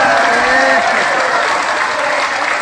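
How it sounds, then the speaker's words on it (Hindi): Audience at a Hindu religious gathering in Nandgaon claps loudly together, a dense steady burst of applause with crowd noise, close and sustained throughout. "एक बार सब लोग प्रेम से ताली मार के हंस जाओ भगवान की।"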